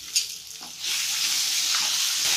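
Pasta vegetables such as carrot and capsicum sauté in a hot pan, a sharp clink of a stirring spoon followed by a steady, close sizzle that swells and holds.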